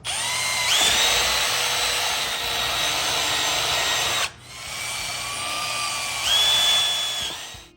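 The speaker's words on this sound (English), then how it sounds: "I'm going to drill 3 more holes." A power drill whines steadily at close range, drilling holes in a sink, revving up twice with a brief dip in the middle, no voices.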